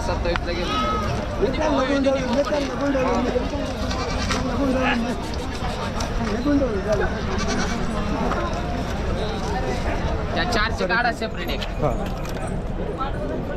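Black Osmanabadi goats bleating at a large goat and sheep market in Chakan, Maharashtra, with several overlapping calls under steady crowd chatter and nearby voices.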